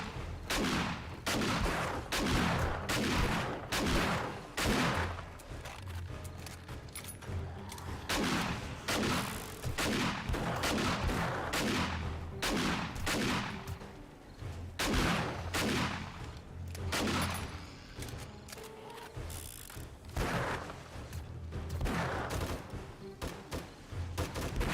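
Hand cannon gunfire in a video game, a long barrage of sharp, heavy shots in rapid bursts with brief pauses, loud and close, with booming low thuds under the cracks.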